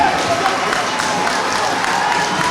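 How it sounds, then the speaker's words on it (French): Football stadium crowd at a Bénin Super Ligue Pro match between Loto Popo FC and Coton FC applauding a player being substituted, a steady wash of distant clapping and crowd noise with faint voices. "Le public l'applaudit"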